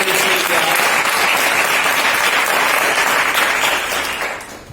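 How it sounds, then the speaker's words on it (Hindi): Students at a school assembly clap together in a loud, sustained round of applause, even and continuous, fading slightly at the close. "तो ताली बजाइए एक बार यहीं से बैठ।"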